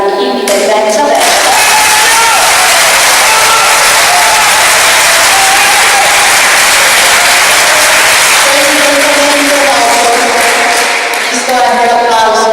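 A crowd at an outdoor political rally for Veneto independence in Sossano claps loudly and continuously, a dense wash of applause lasting well over ten seconds, with faint voices briefly audible near the start and end.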